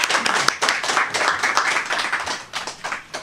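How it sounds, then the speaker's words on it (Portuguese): A church congregation applauds, many hands clapping together in a dense, steady burst of claps that fills the room. "Vamos aplaudir o Senhor Jesus."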